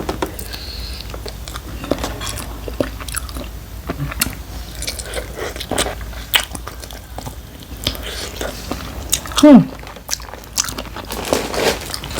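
Someone chews a spicy Thai chicken feet salad up close, with repeated wet crunches, bites and squishy chewing at an uneven rhythm, and a brief louder crunch near the end.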